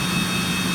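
A Cessna Citation CJ3+ business jet engine spinning up in a flight simulator gives a brief, steady roar with a thin high whine on top, heard alone.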